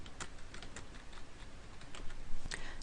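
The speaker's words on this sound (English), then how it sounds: "I'll type a few words here." Typing on a computer keyboard: a quiet, steady run of soft clicking keystrokes over a light background hiss, with no talk.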